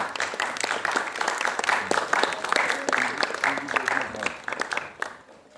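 Applause greets a theatre director as she is welcomed onstage, scattered claps under a voice speaking over them, fading out near the end.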